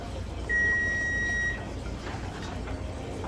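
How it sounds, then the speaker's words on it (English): Single electronic kitchen timer beep, a steady high tone held about one second, clear and fairly close over low room noise while spritz cookies bake. "So here's the timer one more time."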